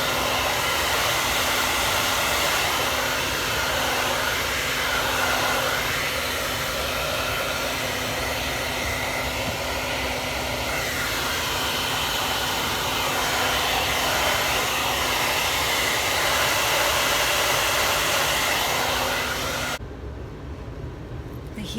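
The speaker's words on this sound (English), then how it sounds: "Heat will help from the blow dryer." Blow dryer heating leather seat covers during an install in a 2019 Ford F-150, a loud, constant whooshing hum running almost the whole time, then cutting off abruptly near the end.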